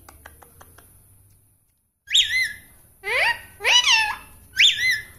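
A pet parrot whistles in a sequence of loud, close, bright sliding whistles after a brief quiet pause, several separate calls with rising and falling pitch, with faint soft clicks beforehand.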